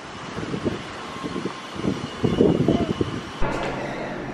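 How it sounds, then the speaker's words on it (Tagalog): Gusty wind buffets the microphone in rumbling bursts, with a steady breezy hiss behind and faint background noise. "Sobrang hangin talaga."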